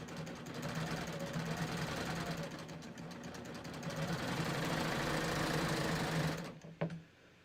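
A coverstitch sewing machine stitching a hem with differential feed set to 1.3 and raised needle tension, a fast continuous mechanical whirr close by that stops abruptly near the end with a couple of clicks.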